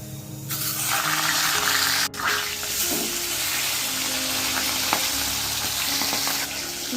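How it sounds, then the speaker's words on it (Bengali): Fish head and five-spice seeds fry in a hot wok, giving a loud, steady sizzle with sputtering pops and crackles that carries on throughout, with a few sharp spits standing out and no talking. "বাপরে বাপ ফট ফট করে ফুটছে"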